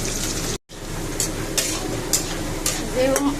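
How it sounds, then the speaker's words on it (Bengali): Potatoes frying in a pan in a home kitchen, a continuous sizzle with several short scraping stirs, briefly cut off near the start and then resuming steadily. "এই দেখেন আমি আলু ভাজছি"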